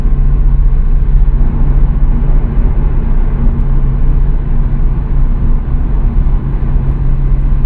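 Loud steady low engine rumble and road noise from a Nissan Skyline GT-R V Spec R33 cruising on a highway in fifth gear, continuous and close from inside the car, with no talk.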